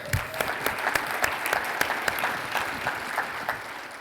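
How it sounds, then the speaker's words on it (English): Steady audience applause at a conference talk, many hands clapping in a dense, even wash heard from a little distance, moderately quiet and continuous with no voices. "if we could give a big round of applause for Mick"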